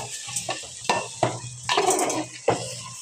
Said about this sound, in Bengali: এই যে আমি নাড়াচাড়া করে দিচ্ছি যেন খিচুড়িটা আর একটু মজা হয়